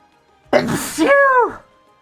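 A single sneeze bursts out at close range, a sharp onset followed by a rising, voiced tail that fades after about a second, with no talk around it.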